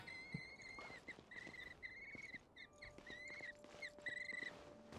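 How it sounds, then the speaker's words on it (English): Chirping birdsong with repeated high calls from several birds in Genshin Impact, set against a quiet ambient outdoor background with faint insect-like patter. "Birds."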